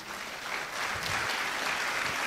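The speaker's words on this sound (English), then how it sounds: "Congratulations, let's applaud them." An audience applauds steadily and continuously for graduating security analysts at a cybersecurity graduation ceremony. The clapping is moderately distant, with no speech over it.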